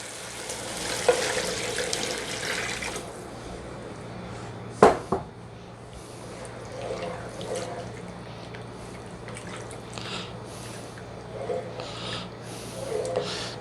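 Vegetable broth is poured into a pot of shrimp chowder, a faint, running liquid splash with a sharper slosh partway through and quieter trickling after.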